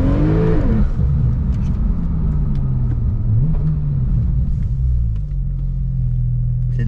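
A Porsche 991 Turbo launches under launch control, its engine rising in a quick burst of revs before settling into a deep, steady rumbling pull with shifting pitch, loud and close from inside the car.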